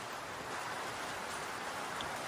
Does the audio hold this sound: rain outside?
yes